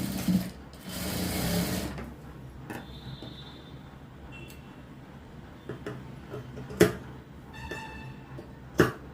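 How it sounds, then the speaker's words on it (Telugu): A sewing machine stitches blouse shoulder seams with a fast, even ticking rattle in short bursts, broken by pauses and a few sharp clicks and thumps of fabric handling, heard close and fairly quiet. "షోల్డర్స్ని ఇలా 2 సార్లు అనేది కుట్టుకోవాలండి."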